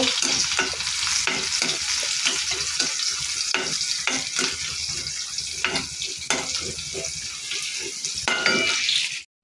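Onions sizzle steadily in a hot pan for a khesari lentil dal bharta, with a utensil repeatedly scraping and stirring through the oil; close, continuous and fairly loud, with no voices.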